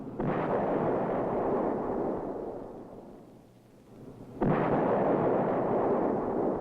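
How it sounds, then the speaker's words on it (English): A 105mm howitzer fires twice, each shot a loud, sudden boom followed by a long rolling rumble that fades over a few seconds before the second blast hits. "In addition to the new and effective missile and rocket support, the infantryman has been and still is supported by artillery. Reliable 105mm howitzer."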